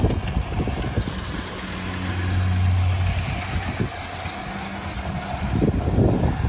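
A garden railway model train runs along its track outdoors pulling two cars, giving a steady close mechanical hum and rumble with a low motor drone that swells and eases, with no voices.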